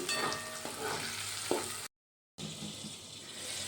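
Brinjal sautéing in masala and oil in a pan, a steady crackling sizzle with a few sharper clinks of stirring, cut by a short silent gap before the frying resumes.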